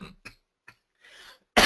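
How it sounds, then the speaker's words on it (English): A person coughs a few times, short dry bursts with pauses, then a breathy throat-clearing rasp and a final louder cough, close and alone. "it ends with a cough that lasts like 2 months"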